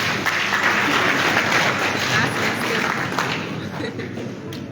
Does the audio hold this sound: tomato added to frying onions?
no